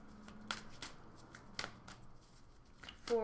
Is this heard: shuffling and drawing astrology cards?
yes